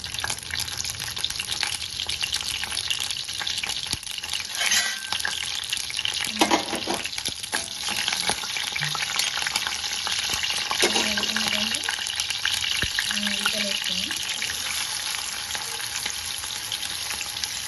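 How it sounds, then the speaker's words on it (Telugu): Green chilies frying in a pan while a seafood curry is prepared: a loud, steady, dense sizzle with occasional stirring clatters and faint water sounds. "పచ్చిమిర్చి వేగుతున్నాయి కదా"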